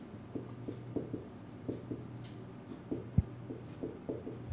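Marker or chalk scratching across a board while writing numbers during a math lesson on factoring, a quiet close series of short strokes and taps with a low steady hum beneath, no voice.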